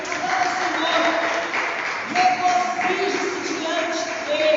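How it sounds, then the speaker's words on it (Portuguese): Church congregation applauding together, a steady broad wash of clapping lasting throughout, with voices and singing tones faintly mixed in. "Aplauda ao Senhor"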